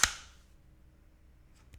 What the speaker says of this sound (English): This is the sound of the Tokyo Marui lockback